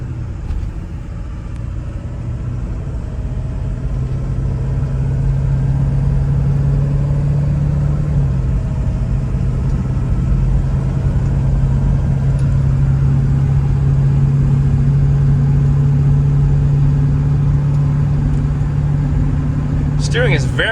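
A 2000 Ford Excursion Limited 2WD with the 7.3L Powerstroke diesel drives along with a steady, loud, low drone and a faint shift partway through. Someone talks over the engine throughout.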